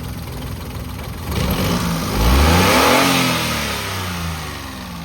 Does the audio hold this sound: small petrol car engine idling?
yes